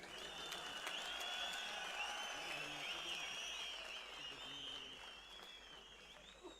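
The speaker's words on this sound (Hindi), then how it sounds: "तालियों सीटियों से इनका स्वागत करें" An audience at a state transport corporation's golden jubilee event welcomes the chief minister with steady applause and shrill whistles, a dense continuous roar of clapping with a voice faintly underneath.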